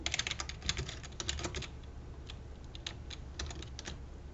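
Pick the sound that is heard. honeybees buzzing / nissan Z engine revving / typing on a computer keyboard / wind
typing on a computer keyboard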